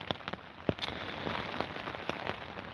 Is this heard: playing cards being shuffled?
no